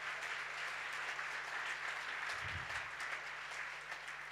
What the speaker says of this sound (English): I take it that the applause is not for me, it is for the Lord